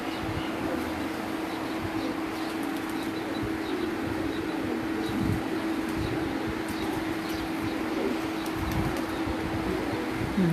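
Steady low cooing from pigeons on a rooftop loft, a continuous murmuring drone with faint scattered chirps and light ambient noise, moderately close.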